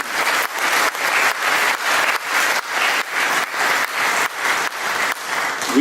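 A crowd at a 2014 OFBJP UK victory celebration in a London hall claps loudly in unison, a steady pulsing rhythm of synchronized applause that keeps going without pause.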